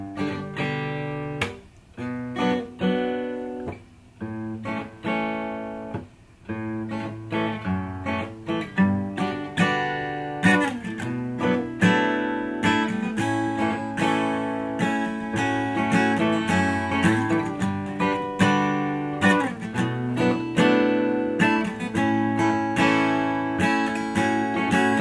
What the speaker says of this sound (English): we're going to take a pretty basic acoustic guitar chord progression, and we're going to come up with another part that is going to harmonize the original part